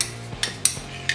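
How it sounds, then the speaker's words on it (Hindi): A spoon stirs coffee into hot water in a home kitchen, giving a few sparse, light clinks against the cup, faint and spaced apart with quiet between them. "ये हमने हॉट वाटर लिया है, इसमें हम ये कॉफ़ी डाल लेंगे"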